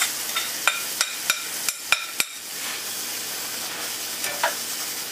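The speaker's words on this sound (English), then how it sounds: "Let's go ahead and dump that spätzle in" Spätzle sizzling in melted butter in a pan, a steady loud hiss broken by a run of sharp scraping clicks from stirring in the first couple of seconds, then a softer clatter near the end.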